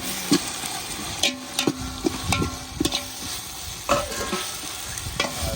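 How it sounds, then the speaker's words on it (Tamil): Ginger garlic paste sautéing in a hot pan for a birthday meat feast, with a steady sizzle and a series of sharp scraping stirs. The strokes come irregularly, close and clear, with no talk. "இஞ்சி பூண்டு பேஸ்ட் வதக்க வதக்குங்க வதக்குங்க"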